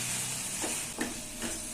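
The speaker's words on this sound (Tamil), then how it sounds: "உப்பு, சேர்த்து நல்லா கிண்டி விட்டுறலாம்." Curry leaf mixture with salt stirred in a hot pan for a thick curry leaf chutney, a steady soft sizzle with a few scraping strokes of the spoon, close and continuous, no voices.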